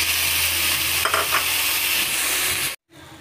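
Liver sautéing with onions in a hot pan, a loud, close hissing sizzle that runs steadily, then cuts off abruptly near the end.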